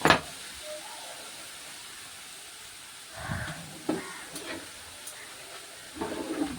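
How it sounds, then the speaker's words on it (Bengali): Pointed gourd leaves fry in oil in a pan after being steamed in water, a soft continuous hiss and sizzle with a few louder spitting bursts and no talk. "এই যে ভালো মতন করে ভাজা হচ্ছে"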